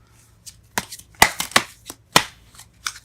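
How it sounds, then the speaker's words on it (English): Sparse, crisp flicks and soft slaps of tarot cards being shuffled in irregular bursts, close and fairly quiet, with no talking. "it's not letting me shuffle here."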